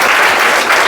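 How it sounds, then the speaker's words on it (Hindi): Applause for students at a prize distribution after a grammar test, a dense steady patter of many hands clapping close by, loud and continuous for the whole short stretch. "ताली भी आ जाए थोड़ा सा उनके लिए"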